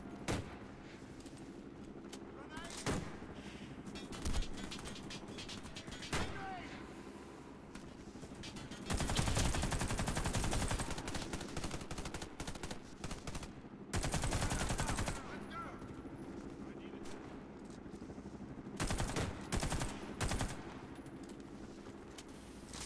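Machine gun fire in Ace Combat 7, short bursts and single cracks spread across the clip with a long sustained stream of rapid rounds in the middle, loud and close against a low background hum.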